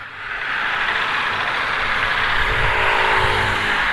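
A Ducati DesertX motorcycle engine fires up and settles into a loud, steady, rushing roar that holds close and constant.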